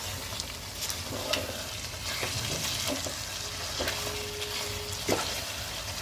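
Chicken with cumin and other ground spices being sautéed in a pan, a soft steady sizzle with intermittent stirring scrapes and clinks, fairly quiet and close, no voices.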